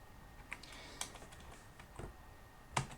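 Typing on a computer keyboard while entering code, a few sparse, crisp key clicks spaced out over a quiet background, fairly close.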